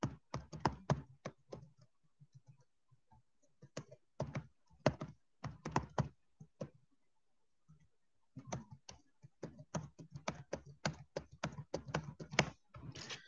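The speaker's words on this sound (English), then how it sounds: "Wait, let me type it in." Typing on a computer keyboard at a desk: quick clusters of crisp key taps in uneven bursts, pausing briefly around the middle before a steady run of keystrokes resumes, close and fairly quiet.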